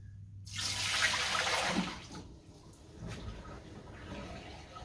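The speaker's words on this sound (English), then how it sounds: "So now I can clear this water tray out of the way." Water pours and sloshes as a lab water tray is emptied, a fairly close rushing splash that swells, then trails off into softer dribbles, with no talk.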